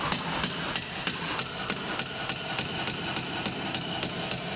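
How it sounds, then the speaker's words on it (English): Sharp metallic hammer taps strike a car wiper arm in a garage, evenly spaced at roughly three per second, loud and close with no talking. "You don't really want to use a metal hammer for this because you can start bending the wiper arms and stuff."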